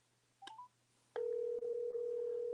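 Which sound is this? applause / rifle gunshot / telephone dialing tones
telephone dialing tones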